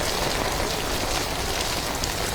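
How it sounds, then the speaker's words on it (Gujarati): Heavy rain pours down in Vadodara, a dense, continuous hiss of drops striking surfaces that stays steady and loud throughout with no voices. "ચિરાગ માલી વાઘોડિયા રોડ પર ફૂડ વરસાદ છે"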